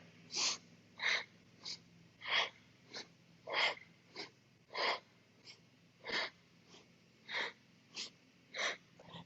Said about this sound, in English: Beautiful, strong breathing, allowing your body to determine your rhythm and pace